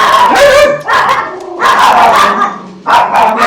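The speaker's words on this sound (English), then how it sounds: "the inside dogs are barking at the outside dogs" Several dogs kept indoors bark loudly at other dogs outside on a farm, in three bursts of repeated barks and yips with brief pauses between them, close to the microphone.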